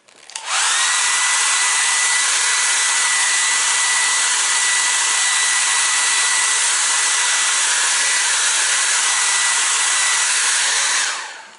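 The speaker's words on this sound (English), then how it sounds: "I'm going to hit the hairdryer for just a few seconds, so watch your ears." A hair dryer blows steadily for about ten seconds, a loud continuous whooshing hiss with a faint high whine, starting and stopping abruptly.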